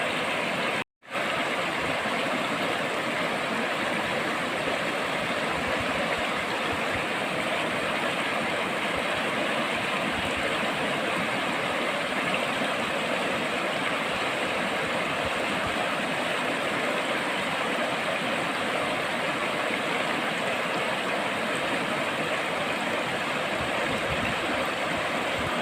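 Swift river water rushes at a confluence on the Narmada in a steady, even broadband wash that stays constant throughout, with no voices.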